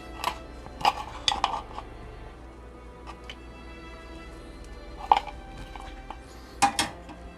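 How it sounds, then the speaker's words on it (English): A spatula scrapes and taps against a yogurt container in a quiet kitchen, giving scattered short clinks and scrapes separated by pauses, with a few louder knocks near the start and end. "And clean it out as best as you can with the spatula."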